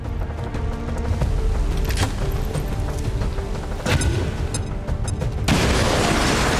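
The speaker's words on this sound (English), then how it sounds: "We're going to start with a grenade anyway, because the guaranteed 6 damage should help" A grenade detonation in the turn-based strategy game XCOM 2, a loud booming blast with crackling debris layered over game effects, followed by a second burst of noisy rumble near the end.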